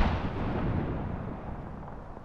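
Frag grenade blast in the video game Apex Legends, a deep booming explosion with a rumbling tail that slowly fades, heard alone.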